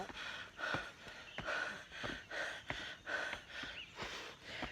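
Loud, heavy breathing close to the microphone from a man climbing about three hundred temple steps, rhythmic panting inhales and exhales roughly every 0.7 seconds, with no speech.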